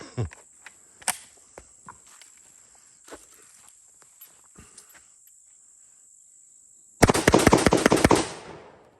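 Panzer M4 semi-automatic shotgun fired rapidly outdoors: a dense burst of about ten loud, sharp shots near the end, after scattered soft clicks and handling noises over a steady insect drone.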